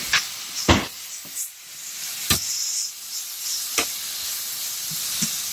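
Peppers and onions seasoned with black pepper and salt sizzle steadily in a hot pan, with several sharp scraping stir strokes cutting through the hiss, close and fairly loud.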